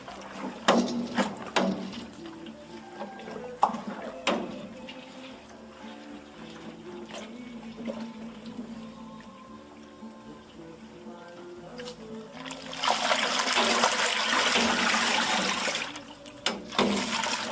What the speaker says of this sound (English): we're going to stir this up once again just to make sure we get a really good mix.